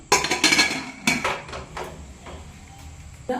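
Sharp metallic clanks of a pressure cooker lid being handled and shut on a gas stove, several bangs in quick succession, then a quieter stretch and one last knock.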